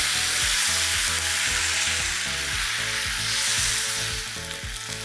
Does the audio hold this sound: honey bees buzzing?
no